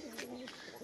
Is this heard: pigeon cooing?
yes